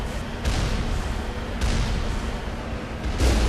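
Enemy turrets in Mass Effect fire heavy, booming rounds in three or four evenly spaced thumps over a rumbling background.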